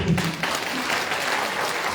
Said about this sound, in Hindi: थोड़ा एक बार और ताली बजा दो।